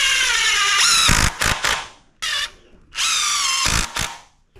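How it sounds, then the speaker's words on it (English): A power drill drives long screws through one 2x4 into another while a chicken tractor frame is built, several loud whirring bursts that rise and cut off, with brief clicks and pauses between, close up. "I'm using the longer screws because I'm going through the 2x4 into the next 2x4"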